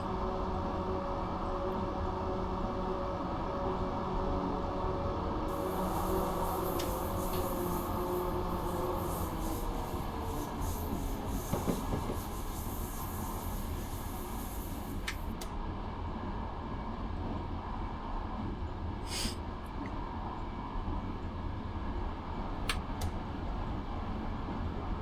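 An Amtrak F59PHI diesel locomotive runs steadily in the Train Simulator game, a continuous engine drone and rumble with brief hissing and squeal bursts, no talking.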